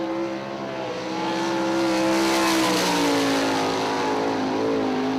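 A sprint car at Eldora Speedway in Rossburg, Ohio, accelerating on the dirt oval: a loud, steady engine roar with rising pitch, heard from nearby and with no voices.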